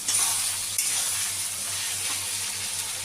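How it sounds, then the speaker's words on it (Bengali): Ginger, onion and green chilli paste frying in a pan for a ridge gourd, potato and fish curry, a loud close sizzle that flares at the start and then hisses steadily, with a low hum beneath. "আমি এবার পেস্ট মশলাটা দিয়ে দিলাম এখানে আদা পেঁয়াজ কাঁচা লঙ্কা পেস্ট আছে"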